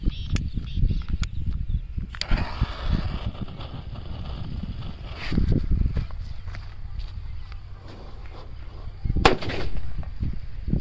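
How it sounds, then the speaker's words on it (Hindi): A large bullet bomb firecracker set off during Diwali fireworks testing bursts in sharp, loud cracks, with several distinct bangs and pops scattered across the stretch amid outdoor rustle and faint crackling. "क्या शानदार और जोरदार धमाका हुआ हमारा जो बिग साइज का बुलेट बम था"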